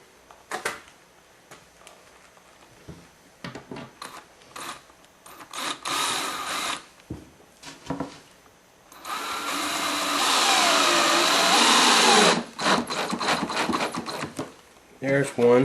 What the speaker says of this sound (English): Okay, let's put a couple of screws in here.